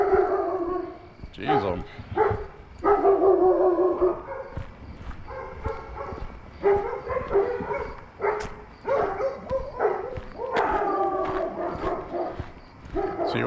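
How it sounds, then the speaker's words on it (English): Dogs bark repeatedly at night along a walking route in Lewiston, Maine, in irregular bursts of varying distance, mixed with yips and a voice talking over them. "More dogs barking."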